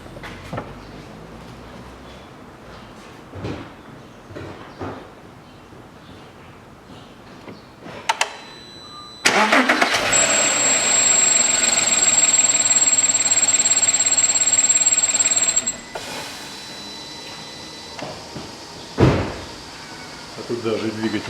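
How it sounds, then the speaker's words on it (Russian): A 2007 Audi Q7 engine starts and idles with a steady high whistle, loud and continuous for about six seconds after a short crank, amid quieter workshop knocks and handling noises before and after. "Сейчас заведу двигатель и будет уже понятно, в помпе это дело или не в помпе."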